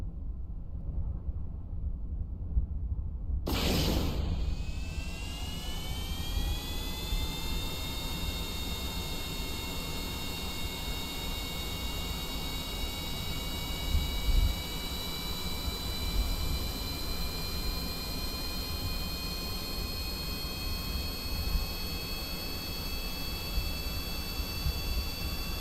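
An F-104 replica jet on a runway in Kerbal Space Program, with the engine spooling up in a sudden burst into a rising whine. It then settles into a steady, loud high-pitched roar that carries on alone.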